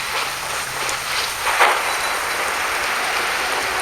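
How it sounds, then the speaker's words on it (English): Steady rainfall in the Genshin Impact video game, a constant broadband hiss of drops on surfaces running unbroken throughout, with a slightly louder patter near the middle and no voices. "Let us find shelter from the rain"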